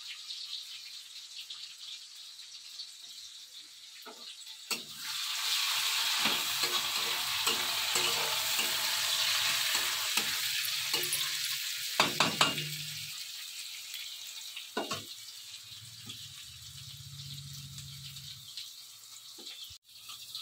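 Chopped onions hiss and sizzle loudly in a hot pan after dropping in, with a spoon scraping and stirring through them in bursts, and a few sharp knocks near the end.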